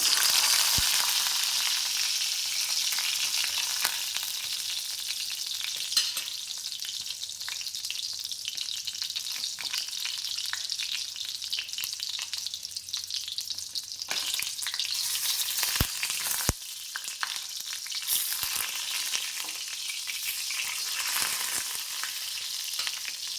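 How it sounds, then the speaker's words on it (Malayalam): A tomato frying in hot oil sizzles steadily and loudly throughout, with occasional clicks and stirring noises and no voices. "ലാസ്റ്റിലേക്ക് ഈ എണ്ണയിലേക്ക് തന്നെ ഞാനൊരു തക്കാളിയും കൂടി ഇട്ട് കൊടുക്കുന്നുണ്ട്"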